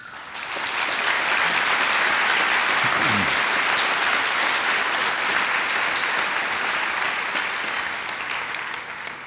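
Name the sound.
audience applause at graduation ceremony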